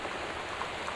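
Torrential rain in the video game Gone Home, a faint, steady hiss of dense rainfall pattering without break, with no voices.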